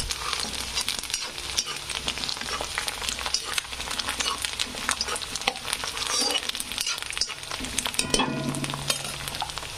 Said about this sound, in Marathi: कढीपत्त्याला पण असं भाजू द्यायचं छान पैकी।